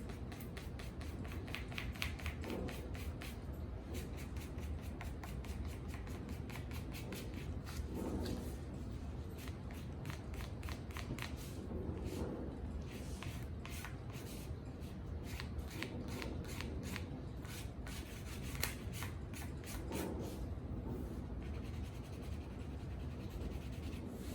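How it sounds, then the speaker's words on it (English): The side of a coloured pencil shading across paper, a steady, close, scratchy rasp built from quick back-and-forth strokes that runs on at an even level, with no talk. "I'm using my side of my pencil to lay down color"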